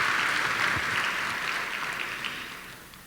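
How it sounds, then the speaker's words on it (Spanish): A church congregation at a closing Eucharist of a synodal assembly claps together in sustained applause that slowly fades out over a few seconds. "Un aplauso para ellos también."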